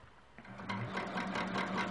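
A sewing machine stitches a quilt's outer border, starting from near quiet and settling into a fast, even whir of needle strokes, close and moderately loud.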